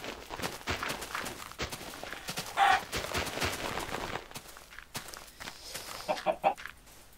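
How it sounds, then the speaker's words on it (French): A chicken in the Minecraft video game gives short clucks among busy game noises: rapid taps and footsteps, a couple of brief tonal chirps, moderately loud and close, with no talk over it. "Oh, un poulet."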